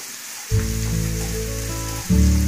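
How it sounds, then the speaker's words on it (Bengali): Ginger sizzles steadily in hot oil with bay leaves in the pan, a dense, close frying crackle that swells louder near the end. "আদা ভাজা হয়ে এসছে, আর একটু ভাজা হবে।"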